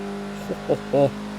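A steady engine drone from a 2016 Honda Civic Type R in the racing game Forza Horizon 3, with three short, rising revving bursts near 7,000 RPM near the end, each louder than the last.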